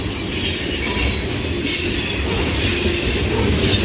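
Freight train cars, including empty tankers and a hot asphalt car, roll past close by with a loud, steady rumble, hiss and wheel squeal throughout.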